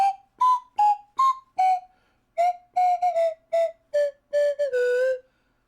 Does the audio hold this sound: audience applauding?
no